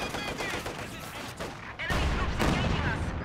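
Rifle grenade blasts and gunfire in Company of Heroes 2 fill the clip: a dense, continuous battle din of shots and booms that swells louder in the second half, with a faint voice underneath.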